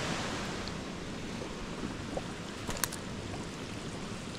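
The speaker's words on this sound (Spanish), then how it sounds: "Es vapor, es agua evaporándose." Steam rising off a boiling river in the Peruvian jungle gives a steady, broad hiss and rush, close and even throughout, with a couple of faint clicks partway through.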